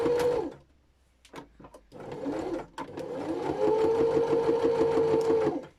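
A sewing machine stitching a tote bag runs in a short burst, stops briefly, then resumes in a steady whirring run for a back stitch, close and clear with no talking.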